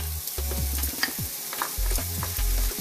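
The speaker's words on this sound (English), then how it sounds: "So now we are going to fry bacon and onions." Bacon and onions fry in a pan, a steady sizzle broken by scraping and stirring of the food, close and clear with no voices.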